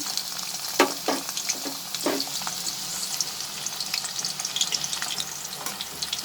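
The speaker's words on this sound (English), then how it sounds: "Now I'm going to fry the sliced onion in this same oil." Sliced onion sizzles in hot oil left from frying bitter gourd, a close, steady crackling hiss punctuated early by a few sharp splatters as pieces hit the pan, then settling into even bubbling.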